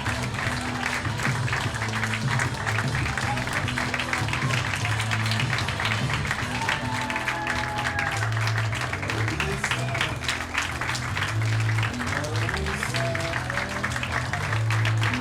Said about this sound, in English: You just see this standing ovation from sections of the crowd